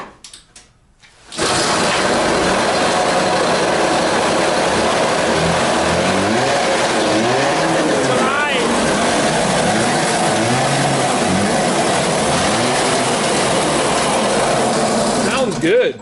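A 1969 Ski-Doo Nordic snowmobile engine catches after a pull start and keeps running loud and steady, a close, continuous two-stroke drone with small shifts in pitch.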